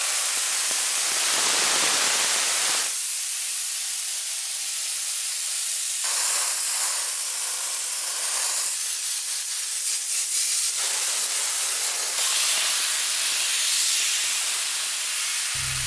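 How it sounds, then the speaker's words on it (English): A steam cleaner hisses loudly in long bursts, cutting off and restarting several times, the spray close and harsh throughout. "get yourself one of these, a powerful steamer."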